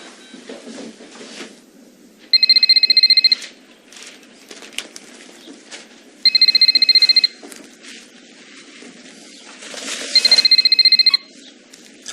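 A telephone rings three times at regular intervals, each ring a bright trilling electronic burst of about a second, close and clear over a quiet indoor room background with light rustling between rings.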